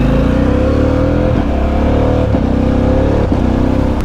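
A 2025 Harley-Davidson Pan America 1250 ST motorcycle engine pulls hard under acceleration, a loud, close, continuous roar whose pitch climbs steadily with brief dips at gear changes.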